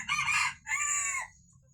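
Free-range village chickens, a rooster giving a clear two-part crow that sounds fairly close and stands alone over a low background rumble.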